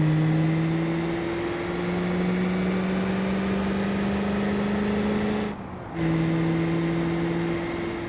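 A simulated car engine in BeamNG.Drive holds a steady, high-revving hum while cruising at about 80, with a brief dip in the drone near the end before it resumes.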